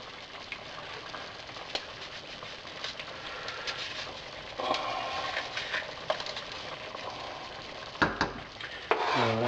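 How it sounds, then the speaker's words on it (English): Texas cowboy chili simmers in a pot on low heat, giving a steady close hiss and bubbling with scattered pops and a few louder clatters near the end, with no talking. "We'll turn the boil down just a little bit. Let that simmer for about 10 minutes."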